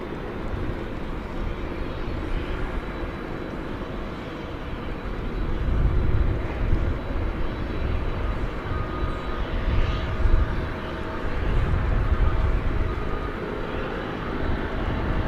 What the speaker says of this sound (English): We do have a 767 UPS now on the radar. It'll be going out to Chicago Rockford International Airport.